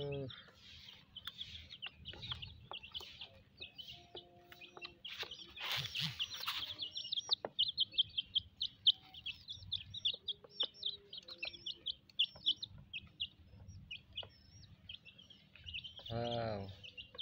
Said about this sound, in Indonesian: Wow, lumayan banyak adik-adik ayam rainbownya, warna-warni.